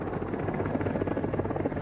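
Soviet Mi-24 Hind helicopter giving a dense, steady rotor chop and turbine roar, continuous and fairly loud for a brief moment with no voices.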